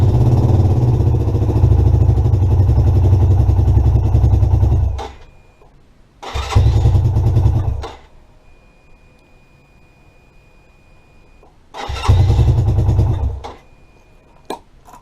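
Lexmoto motorcycle with a starting and idling fault, struggling to start: the engine runs roughly for several seconds, dies, then two more short cranking bursts each fade to silence, loud and close with no voices.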